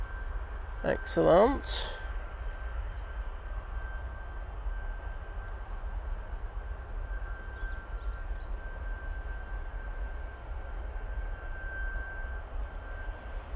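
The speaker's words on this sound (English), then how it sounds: "So air tanker coming out." An Air Tanker jet departing Manchester Airport gives a low, steady engine roar heard from a distance, sustained throughout, with a brief spoken word near the start.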